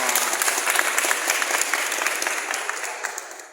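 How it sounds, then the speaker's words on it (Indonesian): A crowd claps steadily in sustained applause, loud and close, fading slightly toward the end. "tepuk tangan"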